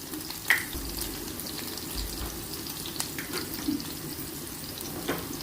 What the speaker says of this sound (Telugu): ఆయిల్ వేడైందండి. ముందుగా కట్ చేసి ఉంచుకున్న ఉల్లిపాయ పచ్చిమిరపకాయ వేస్తున్నాను.